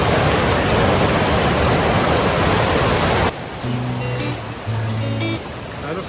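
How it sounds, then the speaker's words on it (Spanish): Water in a mountain gorge at Piedralaves, Spain, rushes with a loud, dense roar for about three seconds, then cuts to a quieter, more distant flow with a voice speaking over it. "Fijaros el agua que baja, es tremenda."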